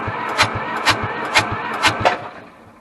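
The engine of a Hamm DV3K roller packer bought at auction cranks over without catching, about five rhythmic starter turns close by, each with a sharp rasp, before it winds down and stops.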